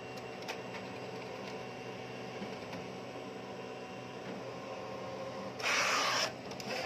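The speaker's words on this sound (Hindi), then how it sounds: "हमारा प्रिंटर जो है ये नोजल चेक जो प्रिंट हुआ है उसको कट करेगा" A Canon imagePROGRAF TM-5200 large-format printer cuts off its printed nozzle check paper. A low mechanical hum gives way to a short, loud, hissing cutter sweep lasting under a second near the end.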